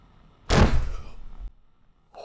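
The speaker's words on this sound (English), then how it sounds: "It was a bed that hit my head." In a horror video game, a bed strikes the player's head with a single sudden heavy thud and crash that rings briefly and fades, followed by a faint tone.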